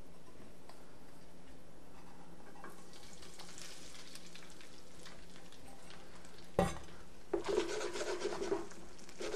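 Smoked salmon hash browns crisping in a pan with a steady low sizzle, then a sharp knock followed by louder, denser crackling and bubbling fry toward the end.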